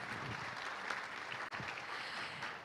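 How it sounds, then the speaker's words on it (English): An audience at a conference on combating plastic pollution gives its speakers a round of applause, a steady wash of many hands clapping somewhat faintly in a large hall, with one brief dip midway. "Let us give our speakers a big round of applause."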